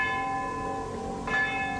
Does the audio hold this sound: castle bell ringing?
yes